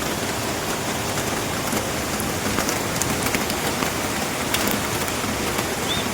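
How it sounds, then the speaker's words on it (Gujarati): Heavy rain pours steadily in Surat, India, flooding the streets, a dense, even hiss of drops drumming on surfaces with no break and no voices. "વરસાદ બહુ અતિ ભારે અતિ ભારે"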